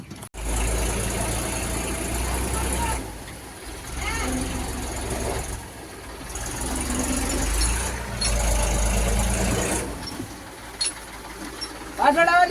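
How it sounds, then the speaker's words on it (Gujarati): A heavy tractor engine chugs nearby as it approaches, a low rumble rising and falling in waves, with faint voices underneath. "ટ્રેક્ટર આવે અવાજ સંભળાય"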